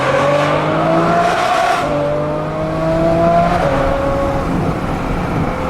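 A car drives steadily with its engine note climbing and shifting through gears, a continuous close drone with rising harmonic sweeps and no talking.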